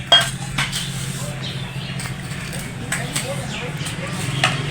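Old metal cooking pots and utensils, one set 43 years old, clink and clatter in a few sharp knocks scattered over the stretch, close by, with a soft background hum and faint voices.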